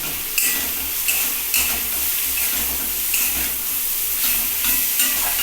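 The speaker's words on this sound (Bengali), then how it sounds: "দেখো মশলাটা বেশ সুন্দর কষানো হয়ে গেছে" Spice paste with ginger fries in a pan for a home-cooked Bengali meal, a loud continuous sizzle punctuated by regular scraping strokes as it is stirred close by.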